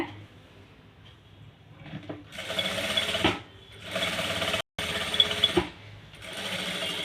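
A sewing machine stitches a decorative design on fabric at a tailoring bench, running in bursts of steady rapid whirring separated by short pauses, loud and close with no talk.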